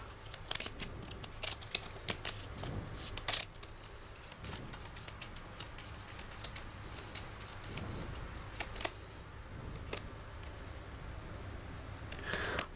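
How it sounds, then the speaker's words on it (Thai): A deck of tarot cards being shuffled, with soft, rapid riffling and flicking bursts repeating close by at a quiet level. "เดี๋ยวมาขอดูไพ่อีกสำรับหนึ่งนะ"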